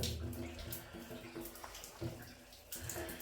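Water splashes and trickles from a freshly cut old pipe during a farmhouse renovation, a faint, uneven spatter with knocks and movement mixed in.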